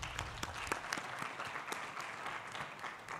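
An audience at a surgical scientific conference applauds its panelists, a dense sustained round of clapping from many hands that holds steady throughout.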